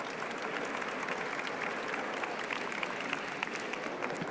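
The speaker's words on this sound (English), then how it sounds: "big round of applause to our two speakers" Audience applause at a business and impact panel session, thanking two speakers: steady, dense clapping from a sizable room, moderately distant and even throughout, with no voices over it.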